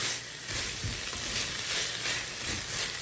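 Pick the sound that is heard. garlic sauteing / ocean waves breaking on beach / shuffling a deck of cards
garlic sauteing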